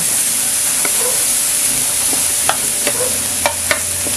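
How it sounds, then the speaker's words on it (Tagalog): Cauliflower sautéed in a pan with browned garlic, a loud close sizzle running throughout, broken by several sharp clicks and scrapes of stirring toward the end, with no speech. "Kapag medyo brown na yung garlic natin, lagyan na natin yung ating cauliflower."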